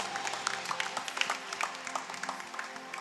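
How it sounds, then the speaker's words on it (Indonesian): A church congregation claps during a bilingual worship service, uneven and fairly soft, with scattered sharper claps over a low background. "Beri tepuk tangan"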